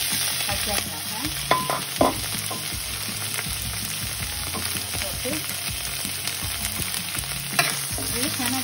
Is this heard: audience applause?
no